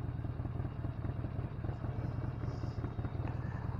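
An engine idles with an exhaust fitted with a little back pressure, giving a steady, low, rhythmic burble that stays even throughout, close by and with no talk over it.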